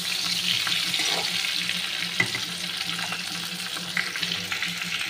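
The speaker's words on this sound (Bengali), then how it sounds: "এবার আমি ফুলকপিটাকে লাল করে ভাজবো।" Cauliflower frying in hot oil in a wok-style pan, a steady close hiss of sizzling with occasional stirring knocks, continuous and fairly loud with no voices.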